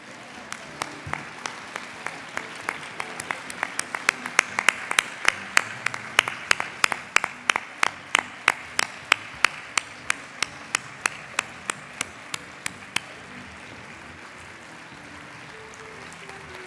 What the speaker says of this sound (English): ask you to please give them a round of